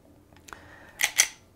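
An FN 509c pistol trigger makes a small, faint reset click followed by two sharp, crisp dry-fire clicks in quick succession. The clicks come close to the mic in quiet surroundings, with no talking.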